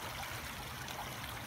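Steady rain falls outdoors at a campsite where Dutch ovens sit, a dense, even hiss with soft patter throughout, no voices.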